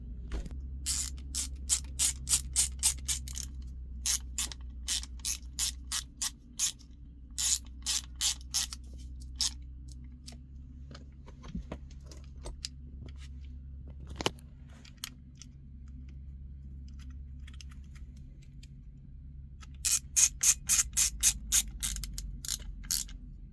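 A ratchet drives two screws into the shifter boot of a Freightliner Cascadia semi truck. Close, crisp clicking comes in short separated bursts over a steady low hum, with a last cluster near the end.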